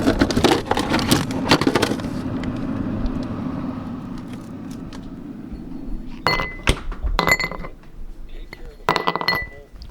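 Ice cubes clink against a glass of Bell's scotch in a few sharp, bright, close taps, clustered early and again near the end, between stretches of quieter background noise.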